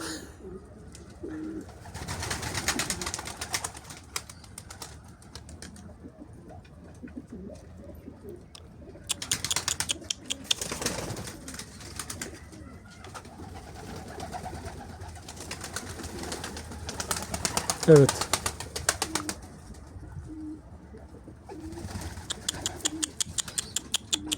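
A flock of pigeons flutters and coos while being fed, with bursts of flapping wings and scattered rustling across the scene, close and fairly loud.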